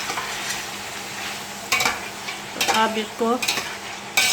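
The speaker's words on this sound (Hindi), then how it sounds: "5-10 मिनट फ्राई भून लूँगी अच्छी तरह से" Mutton being fried and stirred in a pan hisses steadily, with sharp scraping strokes of a spoon against the metal, while a voice speaks briefly near the end.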